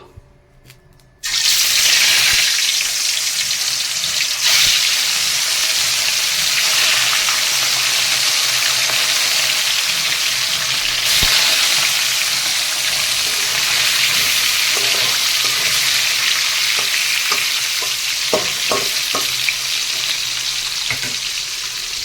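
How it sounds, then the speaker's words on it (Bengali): Fish pieces hit hot mustard oil in a kadai with a sudden loud burst of sizzling that stays dense and continuous for twenty seconds, with occasional sharp pops and spatula clicks toward the end. "তেল আমার গরম হয়ে গেছে এবার আমি মাছগুলোকে একটা একটা করে ভালো করে ভেজে নেব"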